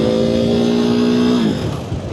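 A clapped-out KTM Duke 390 motorcycle engine running close and loud, a steady droning tone that holds then drops in pitch near the end as it settles.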